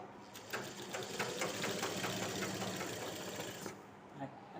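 A domestic sewing machine stitches salwar fabric with a steady rapid mechanical clatter close by, running continuously for several seconds before stopping near the end.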